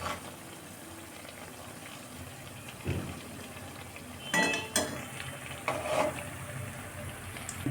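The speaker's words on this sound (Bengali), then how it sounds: "এবার মুড়ির মালাই চপটাকে ভেজে নেওয়া হচ্ছে।" Puffed-rice malai chop frying in hot oil gives a soft, steady sizzle with a few louder stirs and utensil scrapes, close by and with no talking.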